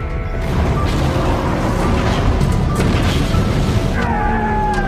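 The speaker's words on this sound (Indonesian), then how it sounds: "Seketika itu juga Dreadnought menghantam jebakan dan meledak." A loud, heavy car explosion in a race, with crashing, rumbling noise that roars on steadily for several seconds, close and intense.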